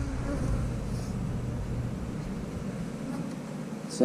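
Steady, close buzzing of honeybees at a hive, a continuous low drone with no voices, ending in a brief bump of noise.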